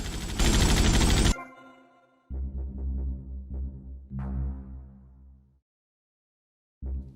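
Gunfire in GTA Vice City, a loud opening burst followed by a series of sharp repeated shots with ringing tails, then a pause and one more shot at the end.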